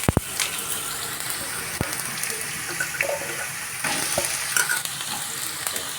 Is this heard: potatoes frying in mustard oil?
yes